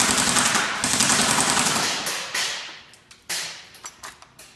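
An airsoft gun with an Amoeba midcap magazine, a Sugar Weasel, rips through a dense full-auto burst up close, the stream slowing and breaking into a few separate shots as it winds down.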